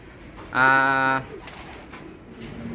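A single short pigeon coo, close and clear, rising out of quiet room noise and fading after about half a second.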